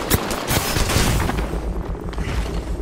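Heavy video-game gunfire in rapid bursts, loud and close, with dense overlapping shots and booms filling the whole stretch with no talk.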